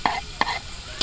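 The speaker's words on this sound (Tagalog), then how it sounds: "mag-gisa na tayo ng ahos at bombay" Garlic and onion sauté in oil in a pan outdoors, with a soft steady sizzle and a few sharp scrapes of stirring spaced at regular intervals.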